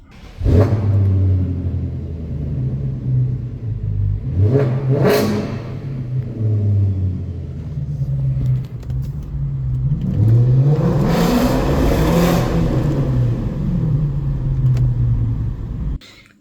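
A cheap V8 engine rumbles deeply at idle, then revs up sharply three times, the longest roaring swell near the end before it drops back to idle.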